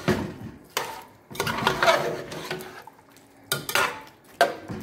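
Jamaican curry chicken with potato and a piece of Scotch bonnet pepper being stirred in a pot, a spoon scraping and clanking against the sides in several close, loud bursts separated by brief pauses.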